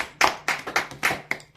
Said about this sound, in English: Let's clap for Ellie.